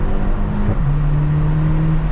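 A 2016 Mercedes C250 Coupe with its factory exhaust idles and then rises into a brief rev, the engine tone climbing and holding steady, close and loud.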